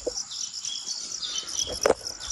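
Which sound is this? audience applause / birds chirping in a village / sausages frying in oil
birds chirping in a village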